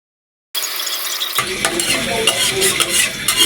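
Chopped onions hit a pan of frying meat after a moment of silence, setting off a sudden loud sizzle that continues with brisk stirring and scraping close by.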